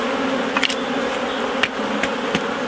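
Honeybees and drones buzzing in an open beehive, a steady close hum with a few brief clicks and taps from handling the hive boxes.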